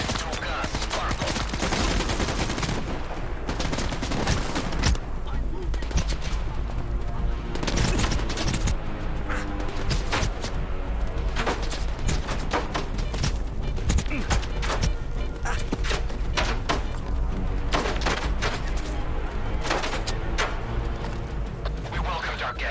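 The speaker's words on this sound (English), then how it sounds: "Where's that gunfire coming from?" Gunfire in the video game STALKER 2: dense, continuous bursts of shots and sharp cracks over a loud, busy game soundscape, with voices mixed in.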